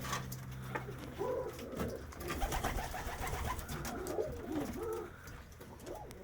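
Soft Polish Mewka pigeon coos repeat in low, throaty phrases close by, with faint rustling in the background.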